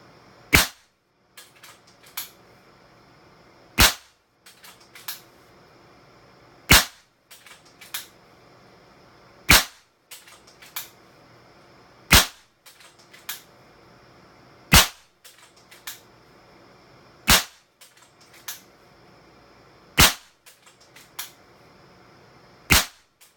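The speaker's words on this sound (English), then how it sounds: "we're going to take 40 shots across the chronograph and verify the tune on the gun" A Kral Puncher Mega PCP air rifle fires a long, even series of sharp, snappy shots over a chronograph, one crack every three seconds or so, each with a faint mechanical click between, against near silence.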